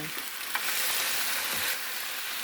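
Onion sizzles and fries steadily in a hot pan with marinated pork for a Korean pork jumulleok, a dense continuous crackle with a brief stir partway through, close and fairly loud with no talking.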